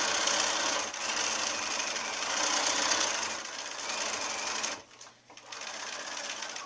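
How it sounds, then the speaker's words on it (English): A sewing machine stitches a quarter-inch seam through crazy log cabin quilt pieces with a fast, steady mechanical whir. The run pauses briefly near the end and then resumes, and nobody talks. "I'm ready to sew my 1/4 inch seam"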